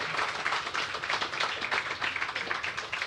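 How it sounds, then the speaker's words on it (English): At an international design awards ceremony, an audience claps in a brisk, uneven patter of many hands, fairly close and lively throughout. "A round of applause for all of these amazing projects that we just saw up here."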